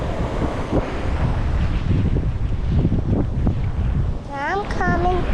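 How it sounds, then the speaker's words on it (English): Ocean surf rolls along the rocky Maui coast near Kipahulu, a continuous roar under heavy wind buffeting the microphone, with people briefly talking near the end. "Oh, look at the waves. The waves are the best."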